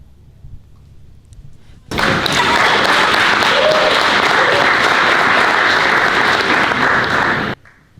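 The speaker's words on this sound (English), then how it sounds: "Give yourselves a round of applause." An audience at the close of an evening event breaks into loud, dense applause that begins abruptly, holds steady for about five and a half seconds, then cuts off, after a brief quiet stretch.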